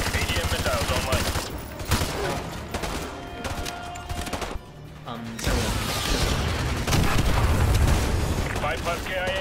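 Missile strike and gunfire in the Call of Duty Modern Warfare 2 remastered video game: dense, loud explosions and rapid fire filling the scene, swelling into heavy booming near the end, with voices under the din.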